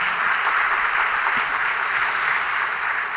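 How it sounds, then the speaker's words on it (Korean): A church congregation claps in encouragement for students during a Sunday worship service, a steady, dense wash of many hands close by, sustained evenly with no voices over it. "우리 학생들을 위해서 다시 한번 격려의 박수를 한번 해주시길 바랍니다"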